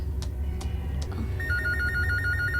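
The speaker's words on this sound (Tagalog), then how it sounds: "Oh, may bagting ang telepono." A telephone rings indoors, starting with three spaced bell-like rings that give way to a steady electronic trill, loud and clear over a low background hum.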